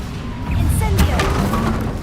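An Incendio fire spell is cast in the Hogwarts Legacy video game: a short burst of whooshing flame with a bright crackle around the one-second mark, over a steady layer of game ambience and music.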